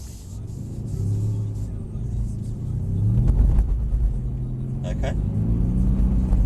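A Mercedes-AMG 63 accelerates at full power on a track, its engine rumble building to a loud, sustained roar from inside the cabin while a person speaks over it.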